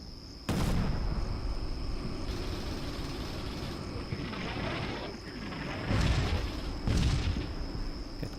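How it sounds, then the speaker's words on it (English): Mortar artillery fire in Combat Mission: Shock Force 2, with several sharp distant blasts, one early and two close together near the end, over a steady rumbling battlefield background with a persistent high whine. "I think it's only mortars, but artillery nonetheless."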